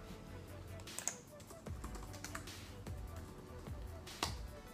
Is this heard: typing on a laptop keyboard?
yes